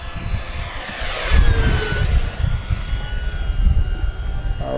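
FMS P-51D Mustang Version 8 scale RC warbird flying by, an electric whine with a sweeping pitch shift as it passes, over gusty wind rumble outdoors.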